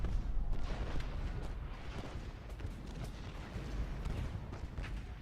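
Distant artillery fire rumbles through a Civil War battle in the strategy game Ultimate General: Gettysburg, a dense continuous low roar of booms and volleys with no clear gaps.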